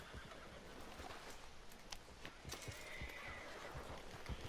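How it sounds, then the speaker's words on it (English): Horse in Red Dead Redemption 2, nervous and agitated, whinnying and snorting over steady hoof clip-clop, with a faint background ambience; no speech. "Cara, meu cavalo tá bem nervoso ali."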